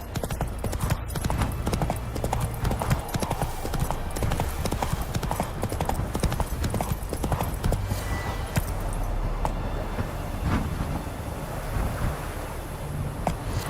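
Horse hooves clip-clopping in The Witcher 3 video game, a brisk, continuous trotting rhythm over a wind-and-surf ambience.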